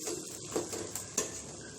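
Ginger garlic paste and browned onions fry with a steady sizzle in a pan, broken by a few sharp scrapes and clinks as a spoon stirs them, all at close range with no talk.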